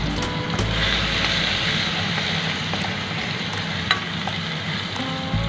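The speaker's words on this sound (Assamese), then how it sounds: "আদা নহৰুখিনি অকণমান ভাজি লওঁ।" Ginger and garlic fry in a pan of hot oil with panch phoron spices, giving a steady, loud, close sizzle that holds throughout with a few faint clicks from the pan.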